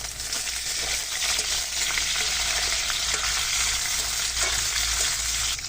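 Sliced onion, slit green chilies and leafy greens frying in hot oil, giving a loud, continuous close-up sizzle with small crackles and occasional stirring scrapes and no voices.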